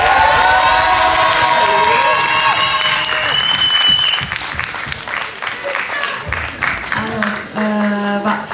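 An audience at an eloquence contest award ceremony applauds and cheers, dense loud clapping with whoops, then the clapping thins and a voice begins talking over it.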